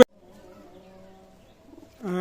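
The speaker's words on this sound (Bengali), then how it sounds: "এক পেয়ার কবুতর আছে দেখেন রানিং পেয়ার কবুতর" A pair of Pakistani high-flying teddy pigeons coo, starting with a soft, low, drawn-out coo close by. A louder, sharper call follows at the end.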